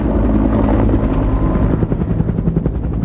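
A UH-1 Huey military helicopter flies close and loud, its rotor beating in a steady, heavy thrum with a continuous turbine roar underneath for the whole stretch.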